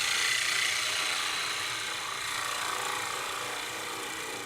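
An angle grinder carves a cypress hollow form, producing a steady, loud, high-pitched whine with a rough abrasive rasp that holds almost constant, easing slightly toward the end.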